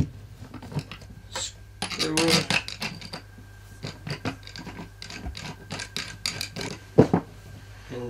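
Screws and a nut are tightened while a 9mm Owen machine carbine is put back together, producing close, irregular metallic clicks, ratcheting scrapes and a sharp clank amid handling noise; someone talks briefly.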